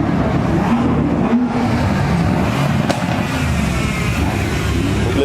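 Supercars including AMG Mercedes, a Mercedes 63S coupé, BMW M2 and Ferrari 430 rev continuously and loudly nearby on a Haspengouw road tour, a dense steady engine roar with a sharp exhaust crack near the middle.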